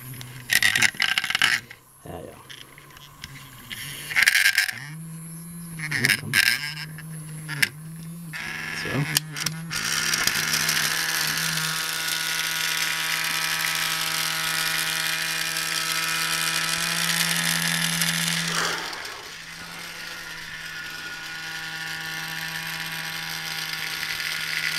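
A HEXBUG Nano toy runs inside a toy spaceship, setting off a steady electronic sound effect with a sustained droning tone and layered buzzing that holds for several seconds after some earlier rattling and clicks, fairly loud and close.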